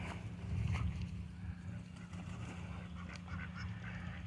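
Ducks at a park quacking in short, scattered honks over a constant low engine-like rumble, moderately near.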